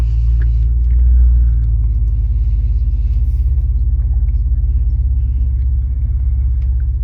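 A truck engine idles and rumbles steadily while it is being moved across a street, a loud, close, continuous low drone with little else audible.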